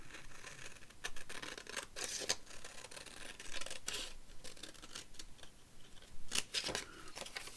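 Scissors snipping through a journaling card in a crafting session, a string of close, quiet crisp cuts with irregular rhythm and soft rustling between them.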